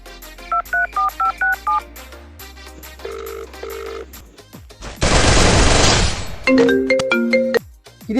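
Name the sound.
telephone dialing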